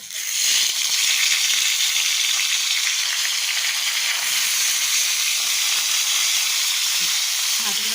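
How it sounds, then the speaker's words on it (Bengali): Fish fried in hot oil in a wok gives a loud, steady, dense sizzle and hiss that runs unbroken from start to finish. "এখন এটাকে ফ্রাই করে নেব তা কড়াইতে তেল গরম করতে দিয়ে দিয়েছি"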